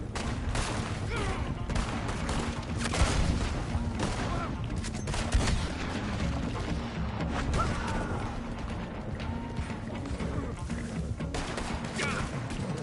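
Dense gunfire in a western video game, including shotgun blasts, rapid overlapping shots and crashes rolling on continuously at close range, with voices talking over the battle.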